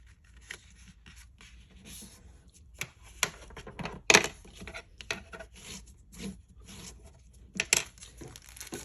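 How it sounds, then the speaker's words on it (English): Paper scrap is folded by hand for a journal card, quiet crinkles and crisp creasing snaps coming in short irregular bursts close up, with a few sharper taps. "All I'm doing for this one is I am just folding it up."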